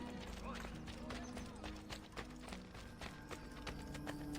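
Hoofbeats clatter in Assassin's Creed Brotherhood as a horse runs, a fast, steady clip-clop beneath a busy game soundscape with a low background hum.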